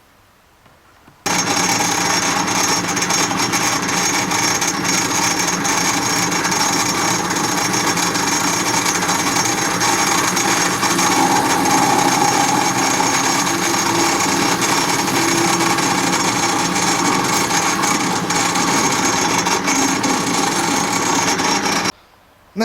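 A pillar drill runs continuously for about twenty seconds, a steady grinding whir that starts abruptly and cuts off near the end.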